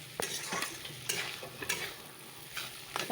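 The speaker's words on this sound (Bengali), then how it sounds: "তাহলে একটু আলু ফুলকপি ভাজা করে নিই" Potato and cauliflower fry in a pan with a steady sizzle, and a spatula scrapes and stirs them in several distinct strokes. The cooking sounds are close and no one speaks.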